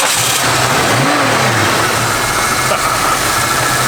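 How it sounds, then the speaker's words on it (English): A 1969 Ford Mustang SportsRoof with a freshly installed battery fires up, its engine catching with a brief rising rev, then settling into a steady, rumbling idle, loud and close. "Sounds really good, it's idling good."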